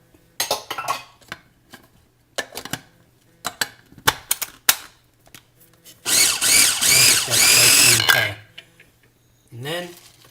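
A food processor pulses spring onion pesto in bursts: several short clattering whirs, then a longer two-second run, with a final brief pulse at the end.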